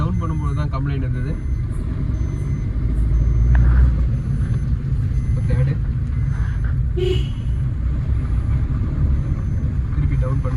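A Suzuki Baleno with a gearbox fault that shows when downshifting from third gear; a steady, loud engine and road rumble runs throughout while a voice talks over it.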